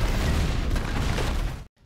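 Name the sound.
explosion set off by a detonator in a film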